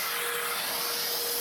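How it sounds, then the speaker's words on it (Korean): A vacuum cleaner sucks up built-up residue from inside a coffee roaster, a loud, steady, broadband whoosh that runs uninterrupted and cuts off abruptly at the end. "얘네도 청소기로 다 청소를"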